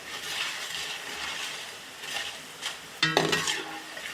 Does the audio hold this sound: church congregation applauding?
no